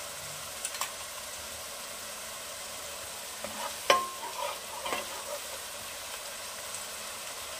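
A pan of ginger, garlic and onion fries at a soft, steady hiss, with a few scattered utensil taps and scrapes rising above the low sizzle.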